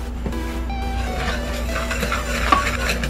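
A whisk stirs flour, granulated sugar, baking powder, salt and baking soda in a large bowl, soft continuous scraping and swishing close up with faint metallic taps, over a steady background hum.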